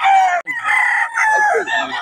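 A roundhead gamefowl stag crows loudly and close at a busy poultry market, one strained, drawn-out crow broken by short pauses, with faint market chatter around it.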